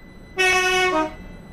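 A single train horn from the Roblox railway game Stepford County Railway sounds one loud, steady blast of under a second, starting abruptly and dropping slightly in pitch before it ends, with no talk.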